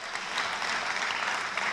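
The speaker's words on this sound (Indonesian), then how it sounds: "Tolong tepuk tangan kepada semua kolaborator" Sustained applause from an audience at an education event honouring curriculum collaborators, a dense, steady patter of many hands, moderately loud throughout, with no speech on top.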